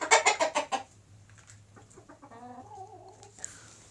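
Domestic chickens kept for a small poultry business cluck loudly and close in a quick series, then fall to softer, drawn-out calls from the flock.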